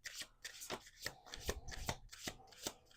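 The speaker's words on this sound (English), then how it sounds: "And I like a clean shuffle, so I like to, like, I'll show you." Playing cards are shuffled close up in a quick series of riffles and taps, about eight crisp bursts over three seconds. The shuffling is fairly quiet, with no talk over it.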